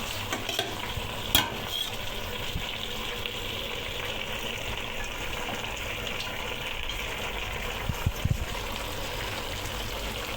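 Peppers and potatoes fry in a pan with a steady, loud sizzle while a utensil stirs them, scraping and clinking now and then, close and continuous with no voices.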